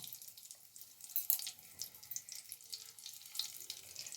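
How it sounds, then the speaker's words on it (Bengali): Rice tikkis fry gently in a little hot oil in a pan, a faint, uneven sizzle with small crackling bursts scattered across the clip. "এবার একে একে টিকিয়াগুলোকে আমি এইভাবে ছেড়ে দেব।"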